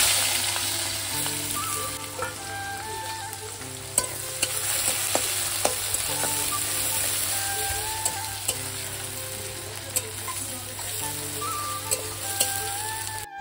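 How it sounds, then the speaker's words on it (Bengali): Cut potatoes frying in a pan over a wood fire, a steady close sizzle with intermittent sharp clicks of stirring against the pan. "আলু ভাজবো আজকে"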